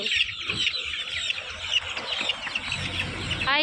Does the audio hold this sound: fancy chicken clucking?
yes